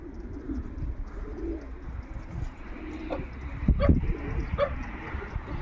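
Pigeons coo softly beside their loft, low murmuring calls running steadily over a dull outdoor background, with a few brief sharper sounds near the end.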